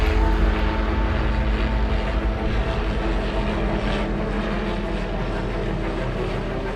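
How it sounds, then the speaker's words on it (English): A helicopter flies over a herd of wild African elephants during a darting operation, its engine and rotor making a steady, loud, continuous drone throughout with no voices. "The helicopter circles the elephant herd, rounding them into small groups."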